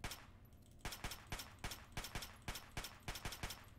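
Rapid gunfire aimed at a super mutant in Fallout 3 near the GNR Outpost: a steady string of about a dozen sharp, close shots in quick succession, with no talk over it.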